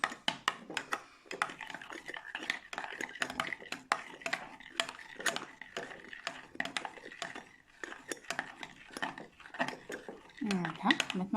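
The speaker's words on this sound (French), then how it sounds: "Là, tu touilles, tu touilles" A spoon stirs a tomato and cream mixture in a dish, a steady run of quick scraping and clinking strokes close by, while a person talks over it.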